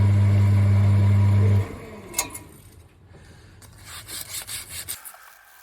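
Sandpaper rubbed over a cheap pen, working through progressively finer grits, gives a steady close rasping scrape after a loud hum cuts out, with uneven strokes continuing to the end.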